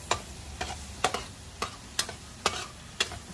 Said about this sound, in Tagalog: Miss Bobsy, gawin mong caramelize ang ating sibuyas